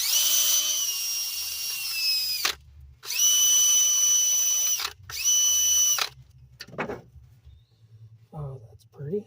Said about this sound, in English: Doesn't take much, so don't go crazy and grinding all the way through those little terminals.